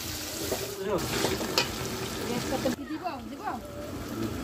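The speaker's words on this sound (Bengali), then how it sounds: "তারপরে দিলাম আমরা কাজু পেস্ট, আদা দিলাম, আদা বাটা দিয়ে এটাকে নেড়ে নেবো।" Cashew paste and ginger paste are stirred in a pan, giving a steady sizzle with intermittent scraping strokes of the spoon, close and moderately loud, with a voice faintly present at times.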